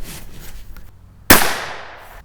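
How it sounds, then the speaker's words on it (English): A single sharp .17 HMR rifle shot firing Hornady rounds, a loud crack followed by a short decaying echo in an otherwise quiet outdoor setting. "We've got 5 rounds of the Hornady loaded up, and we'll shoot a second group with it."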